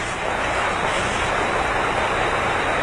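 A river rushes steadily beside a mountain trail leading toward a waterfall and temple, a dense, continuous roar of flowing water with no voices.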